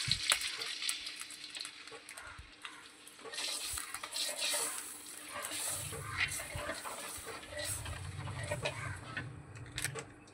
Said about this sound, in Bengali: এবারে আমরা এর মধ্যে কিছুটা পরিমাণে দুধ দিয়ে দিচ্ছি।